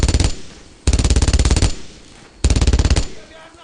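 Suppressive machine-gun fire in the World War II shooter Brothers in Arms: Road to Hill 30, with three loud, rapid bursts of automatic shots separated by short pauses.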